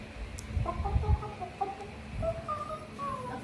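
Several short rooster calls ring out against a steady background, a harsh fowl voice repeating at irregular moments, moderately near.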